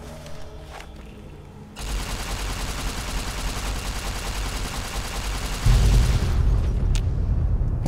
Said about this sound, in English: But I'm gonna detonate this.